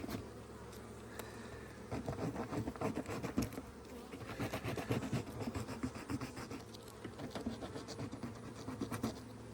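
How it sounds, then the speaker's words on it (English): Honeybees buzz in a dense, continuous swarm during a backyard hive inspection, with scratchy scraping of frames and hive parts mixed in close by. "that bee got a little too close"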